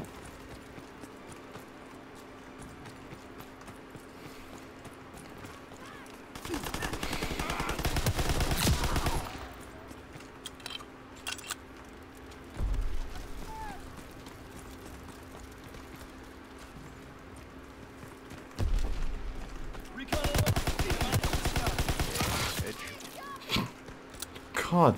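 Bursts of gunfire from a gun in Call of Duty WWII, two long loud rapid volleys with a few shorter shots between quieter stretches, under occasional talk.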